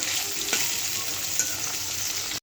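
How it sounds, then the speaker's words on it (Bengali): Fish frying in a pan on the stove gives a steady, close crackling sizzle with a few sharper pops, running alone without any talk. "মাছটা চুলায় দিয়ে দিয়েছি,"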